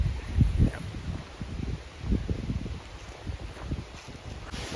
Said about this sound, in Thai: บรรยากาศลมตลอด